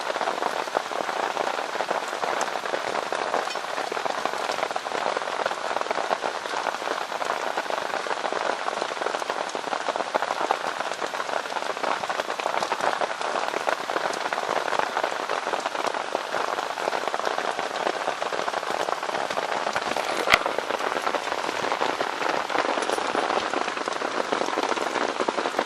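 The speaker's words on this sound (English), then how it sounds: "We got a nice big rain." Heavy rain pours steadily onto a tent at night, a dense and unbroken patter of drops that stays loud and even throughout, with no voices.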